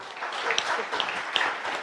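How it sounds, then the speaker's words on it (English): Audience clapping at a cannabis industry conference talk, a brief steady burst of many hands at moderate loudness with a few sharper individual claps standing out. "You should be clapping."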